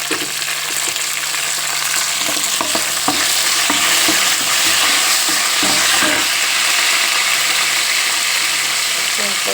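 Dried red chillies frying in hot tempering oil for a ridge gourd chutney, a loud continuous sizzle close by with repeated scraping stirs of a ladle in the pan throughout.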